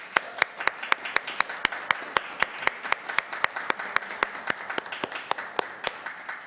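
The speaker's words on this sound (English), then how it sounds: "Let's give them a round of applause." Applause from the audience at a city Public Works and Infrastructure Committee meeting: sharp, evenly spaced claps from a small group, steady for several seconds, with no talking over them.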